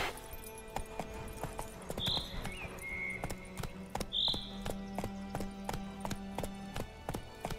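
Roach, the horse in The Witcher 3, gallops with steady, rhythmic hoofbeats close by, joined by bird chirps and a low ambient drone. Light speech-like sounds are faintly present.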